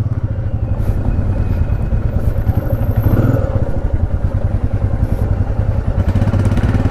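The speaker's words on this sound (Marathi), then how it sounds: "प्रसादची बाईक." A motorcycle engine runs steadily nearby, its low throbbing pulse and rattling clatter continuous throughout, with occasional thumps and no talk over it.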